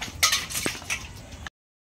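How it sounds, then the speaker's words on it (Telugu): Brass ladles and a bowl clinking and knocking together while being washed in a home kitchen, a few quick metallic clinks over a short burst of running activity. "ఆ గిన్నె కూడా కడిగేసి"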